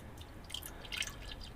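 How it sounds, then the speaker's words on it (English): Small trickle of water poured into a spider enclosure's water dish, a quiet, close pour with faint splashing drips. "I just need to go in with a little bit of water"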